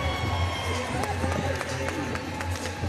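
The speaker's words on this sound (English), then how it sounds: "Great crowd on hand, tons of enthusiasm." A crowd at the 2024 ACC Gymnastics Championship in Greensboro gives off a steady, moderately loud murmur with scattered claps and cheers, and voices are heard within it.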